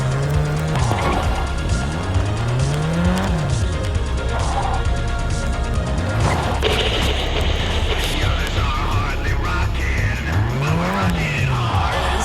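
In the video game Gangstar IV, a small car drives with its engine rising and falling through repeated revs, and tires squeal in skids. The car sounds close and fills the whole stretch, with faint game sounds underneath.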